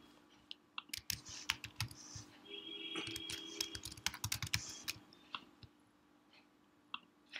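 Someone types a password on a computer keyboard in quick irregular bursts of crisp, close clicks, with short pauses between runs and no talking.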